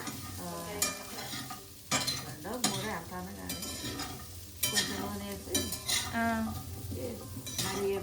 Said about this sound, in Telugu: సన్నగా కట్ చేసుకొని దీన్ని ఫ్రై చేసుకోవాలి